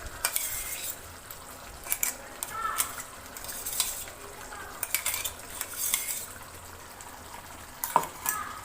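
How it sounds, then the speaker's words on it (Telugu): A spoon scrapes and clinks through cashew chicken curry in a pan, in several short bursts of stirring over a soft sizzle, close up, with no voices. "దీన్ని ఇప్పుడు కలుపుకుందాం."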